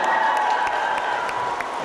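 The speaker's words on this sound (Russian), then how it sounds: "Аплодируйте!" Audience applause at a live stage show in Chernihiv, a steady wash of many hands clapping throughout, loud and close with no pauses.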